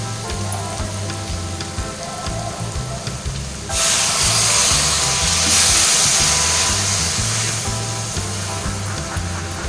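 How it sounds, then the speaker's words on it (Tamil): A tumbler of water pours into a hot pan of vegetables with a sudden loud hiss and sizzle that swells, then settles into steady bubbling, all over a low hum. "காய் வேகிற அளவுக்கு நம்ம 1 டம்ளர் தண்ணி ஊற்றிக்கலாங்க."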